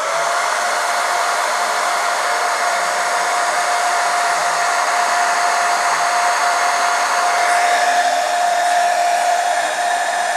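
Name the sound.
heating a Spektrum DX5e transmitter with hot air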